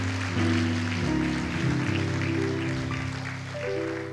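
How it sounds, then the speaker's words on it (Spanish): Congregation in a church applauding, a broad continuous clapping wash mixed with sustained keyboard chords and shifting musical tones. "Dele un aplauso al Señor en esta hora."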